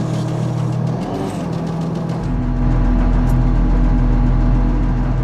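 An American M1117 armored vehicle's engine idles, then rises into a deep, loud rumble as it pulls away, a steady low drone filling the rest.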